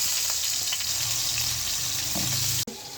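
Chicken sizzles in hot soybean oil in a pan, a steady loud frying hiss with faint stirring, cut off abruptly near the end.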